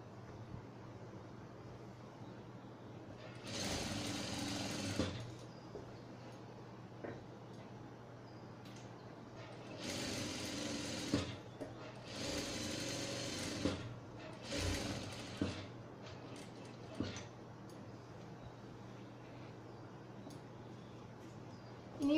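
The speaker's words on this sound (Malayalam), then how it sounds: "എന്നിട്ട് ഷോൾഡറിന്റെ ഭാഗം തയ്ക്കുക." A sewing machine stitching the shoulder seam of a churidhar lining, running in four or five short mechanical bursts of rapid clattering, separated by quiet pauses with low background hum.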